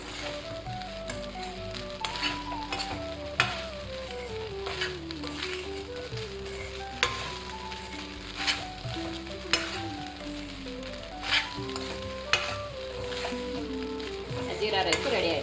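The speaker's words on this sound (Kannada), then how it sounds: "ನೋಡ್ರಿ ಈಗ ಫ್ರೈಡ್ ರೈಸ್ ಥರ ಫ್ರೈ ಮಾಡಬೇಕು." Jeera rice fries in butter in a pan, sizzling continuously while a utensil stirs and tosses it like fried rice, with periodic scrapes and taps against the pan and music playing underneath.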